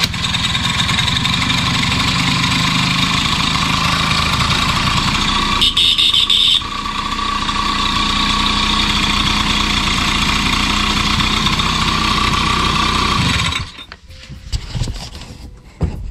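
Honda DIO AF-18 moped engine idling steadily and loudly up close for most of the clip, a constant buzzing drone that cuts out near the end, leaving a few faint knocks and handling noises.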